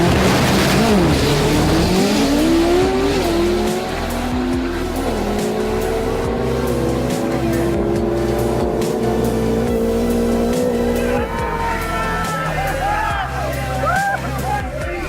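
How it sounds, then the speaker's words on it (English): A turbocharged SR20-powered Nissan Silvia S13 race car screams through rising and falling revs, its engine note sweeping up through gear changes loud and close, with tire squeal and a voice talking over it. "PJ's Nissan Silvia has long proved the reliability of the sr20 engine when built right"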